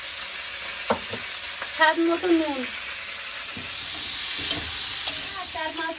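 Cauliflower with potato sizzles in hot oil in a wok with cumin seeds, green chilli and turmeric, a steady frying hiss broken by scraping stirs, while someone talks over it.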